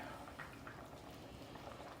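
Corn chowder boiling in a pot on the stove, giving a steady low bubbling simmer that runs throughout, moderately quiet and close with no voices.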